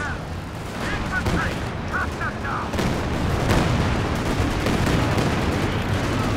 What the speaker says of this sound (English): Oh, the Katyushas are firing.